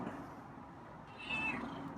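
A single short meow from a feral cat, close by and fairly soft, over a quiet background.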